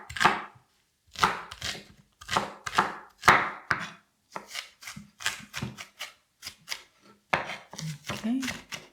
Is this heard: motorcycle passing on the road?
no